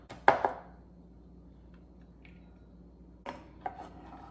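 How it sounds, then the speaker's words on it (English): Garlic cloves chopped with a knife on a board, heard as a quick pair of crisp chops, a pause of quiet, then a few more lighter cuts, close and otherwise silent. "You need 5 big cloves of garlic and chop them."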